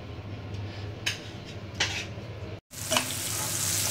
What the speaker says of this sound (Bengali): বুট বাগার দিতেছে